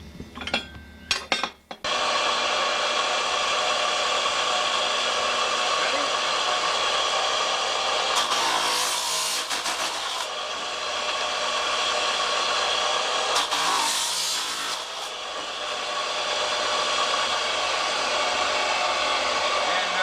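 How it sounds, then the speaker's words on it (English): A cutoff saw driven by a 2 hp single-phase motor runs loud and steady for most of the stretch, with two surges where the wheel bites into metal, after a few brief clinks at the start. "It's a single phase, 2 horsepower motor. And it goes through metal like butter."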